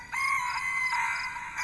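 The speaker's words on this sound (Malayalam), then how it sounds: "ചിന്നുകോഴി." A rooster crows close by: one long, strained call that wavers slightly in pitch as it runs for over a second, loud and clear, with no talk over it.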